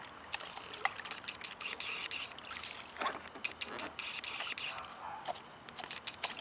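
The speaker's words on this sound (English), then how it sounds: "I'm watering the grass." Water trickling and splashing onto grass outdoors as a small child pours it, a faint continuous wash with a few brief splashes, birds and quiet background sounds around it.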